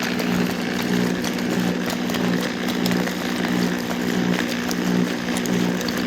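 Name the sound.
gold rod mill with rods tumbling and sand grinding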